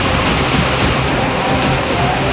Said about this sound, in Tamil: திருப்பதி திருமலையில் இன்று மதியம் திடீரென கனமழை கொட்டி தீர்த்தது